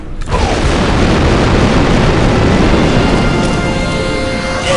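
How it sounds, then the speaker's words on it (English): Explosive charge detonating in Star Wars Republic Commando, a huge sudden boom that swells into a long, loud, rumbling roar filling the whole stretch. "4-0, readying explosives."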